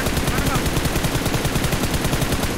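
Dense, continuous automatic gunfire from a battle royale video game, rapid repeated shots filling the whole stretch at close range, loud and steady with no clear pauses.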